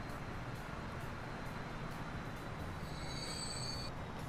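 A train rolls through a railway scene in the video game Transport Fever, with a steady, loud rumbling wash and a thin wheel squeal that rises briefly near the end.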